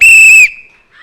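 A referee blows a single loud, sharp whistle blast to start a children's game. It lasts under half a second and leaves a brief faint ring afterward.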